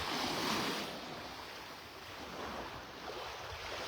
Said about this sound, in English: It's a very light breeze blowing right now.